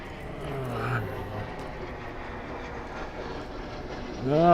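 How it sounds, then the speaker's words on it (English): A jet airplane rumbles in the distance as it takes off from Francis S. Gabreski County Airport, Long Island, its engine roar holding steady and growing louder toward the end, with some voices nearby. "there goes a jet taking off from Francis S. Cabreski County Airport"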